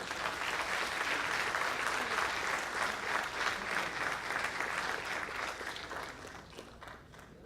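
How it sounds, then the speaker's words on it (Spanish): A large audience at a conference gives a long, steady burst of applause, dense and even throughout before thinning slightly toward the end. "Un fuerte aplauso."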